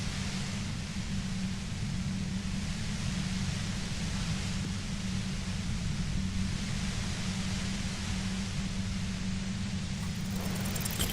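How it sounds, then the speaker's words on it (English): Loud, relentless broadband hiss of a compressor in a video game, a steady white-noise roar with a low hum beneath, unbroken for over ten seconds before a faint crackle near the end. "The violent white noise becomes even more overwhelming closer to the compressor."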